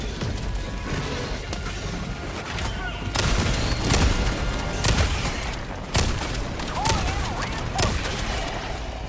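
Grenade blasts and rapid gunfire in the video game Helldivers 2, dense and loud, with booming bursts building mid-clip over continuous battle noise and a voice talking underneath.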